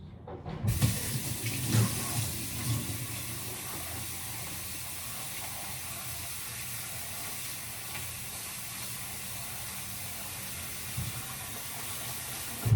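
Tap water runs steadily into a kitchen sink while something is rinsed during cooking, a continuous close hiss and splash that is busier at the start and then settles into an even flow with no talk.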